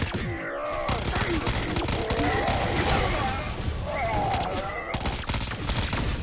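Rapid bursts of air rifle fire in a video game as a lawn man is shot, dense and loud, mixed with groans and impact noises, with a voice talking over it.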